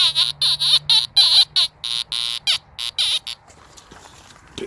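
A metal detector fitted with a Magic coil gives off a rapid run of loud, high-pitched buzzing pulses, about a dozen in quick succession, before fading to quiet handling noise.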